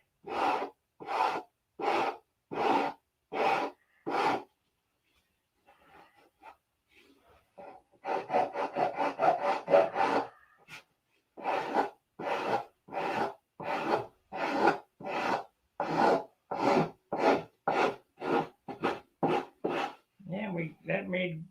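A P-47 model is hand-sanded with 80 grit sandpaper: steady, rhythmic rasping strokes repeat in even runs, with a short quiet gap and a denser flurry of scrubbing before the strokes resume.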